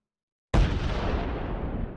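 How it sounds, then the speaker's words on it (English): An explosion from the strategy video game Risk Global Domination bursts in abruptly after half a second of silence, then rolls on as a loud, sustained rumbling boom. "Just hearing explosions,"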